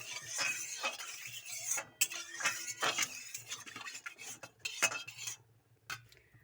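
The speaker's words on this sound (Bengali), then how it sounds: "ধুয়ে নিচ্ছি কড়াইটা।" A metal kadai being washed by hand in a kitchen, with scraping clinks, rubbing and splashy water movements in irregular bursts, close and moderately loud, no voices.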